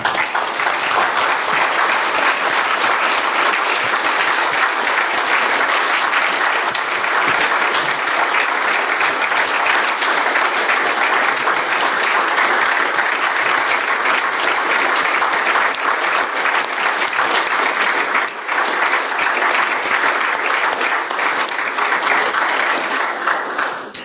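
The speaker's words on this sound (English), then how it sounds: "I also like to close by asking for a huge applause for" A conference audience gives a long, loud round of applause for the organizers, dense continuous clapping filling the room at an even level from start to finish.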